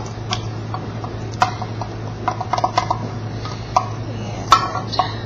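Pasta con sarde stirred in a pot for St. Joseph's Day, with scattered light clicks and scrapes of a utensil against the pot over a steady low stove hum, no talking.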